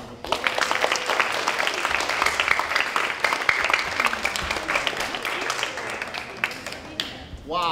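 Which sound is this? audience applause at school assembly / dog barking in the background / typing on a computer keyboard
audience applause at school assembly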